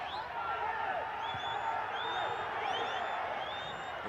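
A soccer stadium crowd at a Central American club match between Cobán and Universitario roars steadily, with whistles and shouts urging the team forward, a fairly distant, continuous wash of voices.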